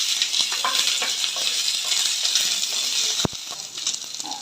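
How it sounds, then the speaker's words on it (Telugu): Green chilli pieces and curry leaves crackle and sizzle as a tempering in hot oil for cabbage curry, a steady close frying hiss with light stirring, then a sharp metallic clink from the pan. "కరివేపాకు, పచ్చిమిరపకాయ ముక్కలు కూడా వేపుకోవాలి"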